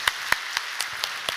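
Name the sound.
church congregation applauding parents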